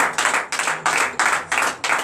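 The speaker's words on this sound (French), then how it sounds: "Donnez l'acclamation à Jésus." Hands clap in a quick, steady rhythm, about three claps per second, close and crisp with no talking, during a morning prayer service.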